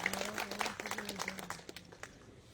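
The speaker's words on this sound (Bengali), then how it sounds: "এটার জন্য একটা জোর করে হাততালি দিন।" Audience clapping at a doctors' meeting, a short burst of applause from a modest crowd with dense, uneven claps, fairly faint and tapering off by the end, a voice faintly present underneath.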